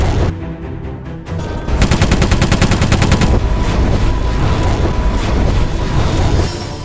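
A fighter jet fires its machine gun in an action film, heard as a dense, rapid burst of loud gunfire lasting about two seconds, followed by a roaring, rumbling engine and explosion-like din.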